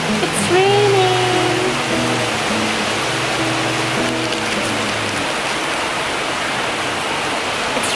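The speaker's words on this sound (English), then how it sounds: "It's raining." Steady, dense rain hisses continuously, with a faint tonal hum fading out early on.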